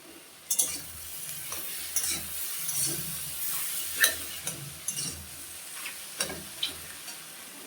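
Fish roe and ridge gourd sizzle steadily in a pan with spices and a little Kashmiri chilli powder, while close, irregular spatula scrapes and stirring knocks come through without any voices.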